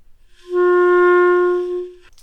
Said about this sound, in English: This is the tone that we call an open G.